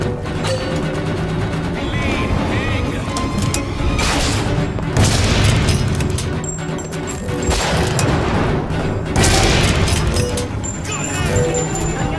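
Sniper gunfire in BioShock Infinite: loud booming shots and crashes repeat over several seconds amid continuous battle din, with voices talking over the fighting.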